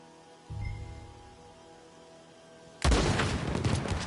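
In Red Dead Redemption 2, a low thud opens the clip, then after a quiet pause a loud burst of gunshots erupts and continues with crackling shots through the final second.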